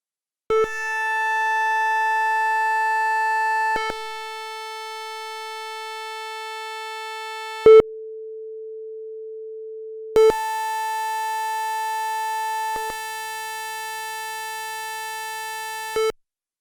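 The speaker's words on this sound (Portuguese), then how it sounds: "Então eu vou ligar aqui o Tone Generator" A steady sine test tone from a tone generator passes through IK Multimedia Neve EQ81 and EQ73 processors. The pure pitch holds constant while its brightness and overtones change across several switched sections, with brief clicks at each change.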